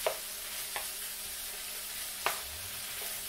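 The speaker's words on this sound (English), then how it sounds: "now you just mix that up. Let the seasonings get all up in the meat." Seasoned ground meat for empanada filling stirred in a hot pan, with a steady soft sizzle and a few distinct scrapes of the utensil against the pan.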